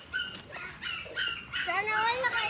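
A family's pet dog whimpers and yips in a string of short, high, whining bursts, fairly close and moderately loud, with faint voices in the background.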